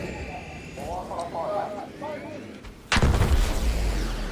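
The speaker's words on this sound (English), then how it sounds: "Okay, there's stuff blowing up now around me." A heavy blast from the Arc Raiders video game erupts abruptly and stays loud, rumbling on after a quieter stretch of ambient game sound and speech.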